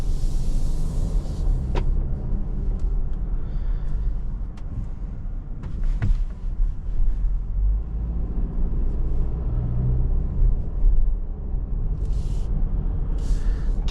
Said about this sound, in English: go over some speed bumps